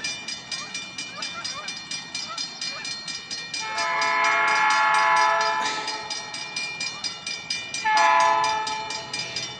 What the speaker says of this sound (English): because the train's coming. Train's coming